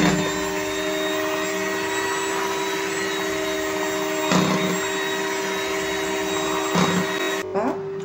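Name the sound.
electric beater mixing fresh cream ice cream premix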